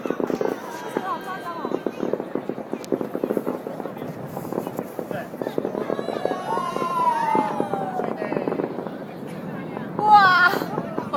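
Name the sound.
New Year's fireworks exploding over a rooftop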